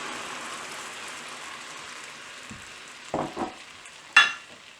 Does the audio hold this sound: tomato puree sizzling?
yes